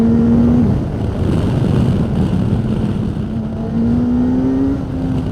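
A 2026 Honda CB1000GT motorcycle pulls hard under acceleration, its engine a loud, steady roar that holds nearly level, with the pitch rising and then stepping down as gears change, heard alone without talk.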